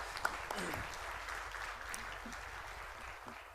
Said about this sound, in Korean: 우리 큰 박수로 다시 한번 내주시고요